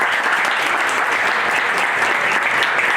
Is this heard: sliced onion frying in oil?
no